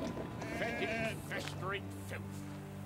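Sheep bleat in the Anno 1800 city-building game, with several wavering calls standing out over a busy ambient game soundscape and background music, fairly close and clear.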